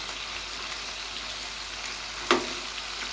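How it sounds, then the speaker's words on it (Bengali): Chicken pieces shallow-frying in a pan over a steady flame, a soft constant sizzle at low level with one brief sharp clack partway through as the pieces are turned. "চুলার জালটাকে আর বাড়াবো না, কমাবো না, ওই জালে সুন্দর করে সব লাল লাল করে ভেজে নেব।"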